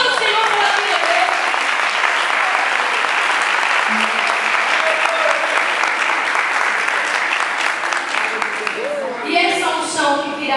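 A church congregation applauds loudly and steadily the whole way through, a dense sustained clapping with a voice speaking over it.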